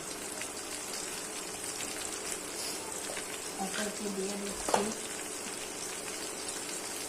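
Shredded cabbage sautés in a pan for a broiler chicken curry, giving a steady soft sizzling hiss with a faint clink, while a person speaks over it.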